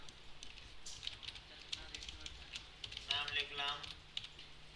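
Keys tapped on a computer keyboard while a name is typed, in quick irregular bursts of soft clicks, with a louder cluster of keystrokes partway through, heard under a faint hum and occasional low talk.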